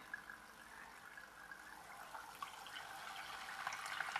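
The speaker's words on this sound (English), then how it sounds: "Back in again," A small fish tank water pump placed back into water, giving a faint, steady watery gurgle and hiss that gradually grows louder, close up with no talking.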